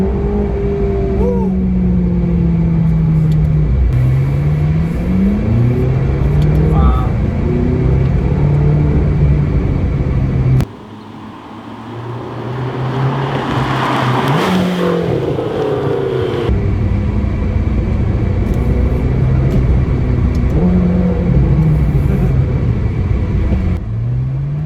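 McLaren sports car engine pulling hard during a ride, a loud sustained rumble with rising revs, a brief gear-change dip near the middle, then building again under occasional cabin talk.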